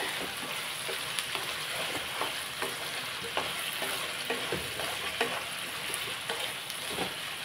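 Potato, beetroot and carrot fry being stirred in a pan: a continuous sizzle with regular scraping spoon strokes against the pan, close and fairly loud, no voices.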